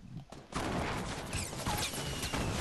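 Rapid bursts of gunfire in an online shooter match fill the moment, a dense, loud, continuous volley of shots dominating after a brief quieter start.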